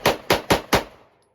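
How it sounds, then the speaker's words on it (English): Four quick sharp gunshots from a Ruger RxM 9mm pistol in rapid fire, evenly spaced and loud at close range, the last shot trailing into a brief fading echo. "I'm going to try to do a little more rapid fire on 3, 2, and 1."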